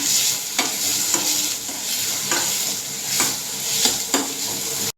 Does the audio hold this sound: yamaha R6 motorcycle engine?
no